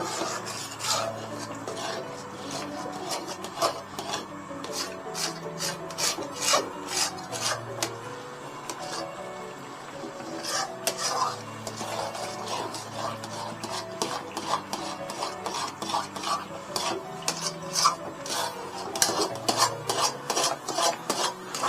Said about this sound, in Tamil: ஆயில் கொடுத்து நல்லா கிண்டுங்க